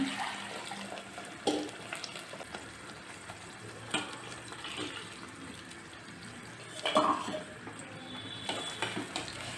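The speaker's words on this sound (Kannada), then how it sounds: "ಇದಕ್ಕೆ ನೀರು ಹಾಕಿ ಹಾಕೋಣ" Water splashes into a simmering pan of egg curry, with a couple of louder pours and stirring clatter over a low background hiss.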